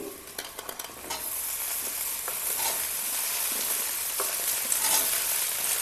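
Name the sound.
potatoes frying with onions in oil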